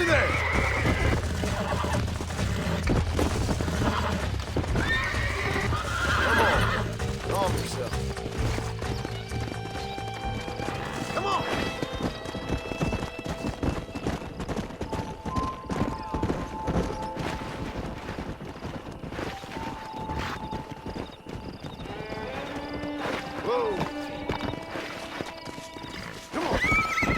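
Horses whinnying and hooves clip-clopping on a ranch in the video game Red Dead Redemption, repeated neighs over a steady rhythm of hoofbeats, with voices talking throughout.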